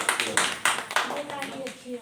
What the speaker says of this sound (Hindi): तालियां बजाइए जरा।